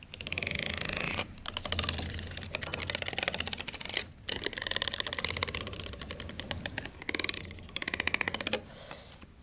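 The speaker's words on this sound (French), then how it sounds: "avec des cartes en plastique qui rajoutent un peu plus de son." Plastic cards scraped across piano strings, heard as rapid, rattling scrapes in bursts separated by brief pauses, close and fairly loud with no voices.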